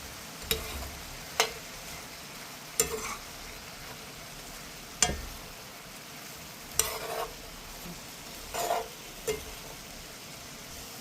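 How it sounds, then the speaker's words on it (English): Walnuts are stirred into sausage and apple stuffing in a pan, giving spaced, crisp scrapes and knocks over a low, steady sizzle, with no voices. "Okay, so to this we want to add our walnuts and then just mix in."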